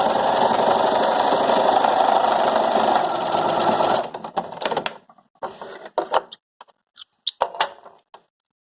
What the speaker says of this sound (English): I then sew it down. Make sure I'm on a straight stitch and not a zigzag